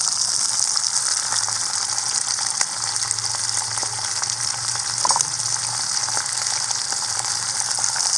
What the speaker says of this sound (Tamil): ஒரே ஒரு பெரிய வெங்காயம் கட் பண்ணி வச்சுருக்கோம், மிச்சம் சின்ன வெங்காயம். இதை வந்து வணக்கிறதுக்கு போட்டுடலாம்